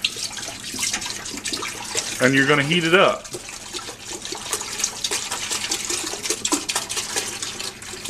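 Milk is poured into a stainless steel pot while making mozzarella cheese, a short rising pour lasting about a second while a person talks.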